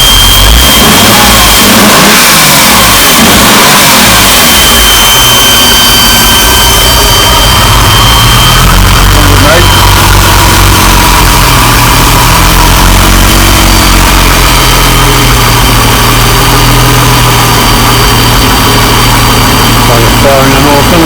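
A loud Jaguar XJS engine, upgraded from 3.6 to 4.0 litres with a Haltech ECU, runs steadily and revs up and down over a long stretch, with a deep rumble throughout.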